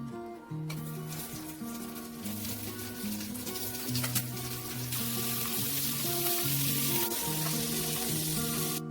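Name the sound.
egg frying in a pan for kimbap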